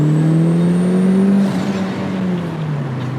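A turbocharged Mazda NB Miata pulls hard, its engine note climbing steadily and loud, then easing into a lower, gradually falling whine after a shift, with no voices over it.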